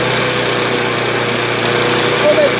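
A Honda push lawn mower engine runs with a steady, loud droning hum under a faint background, close by and unbroken throughout.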